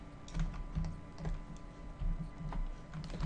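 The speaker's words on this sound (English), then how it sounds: "if I press and hold the Shift key" Computer keyboard keys pressed and held while working in Unity 4.5, giving a steady run of soft, close typing clicks and taps over a continuous low background hum.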